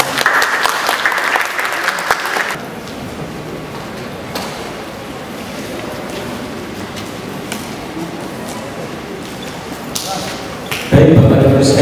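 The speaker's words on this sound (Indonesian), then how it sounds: "Tepuk tangan dong." An audience at an indoor parenting seminar breaks into brief applause, clapping densely for about two seconds before it fades into a murmuring room with scattered thuds and shuffling.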